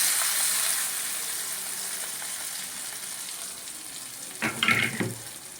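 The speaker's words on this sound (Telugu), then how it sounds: "తర్వాత పేస్ట్ అంతా మనం ఇలా ఆయిల్లో వేసామండి." Curry paste for a paneer curry sizzles quietly in hot oil in a pan, a soft continuous frying hiss, with a brief burst of louder stirring or splashing near the end.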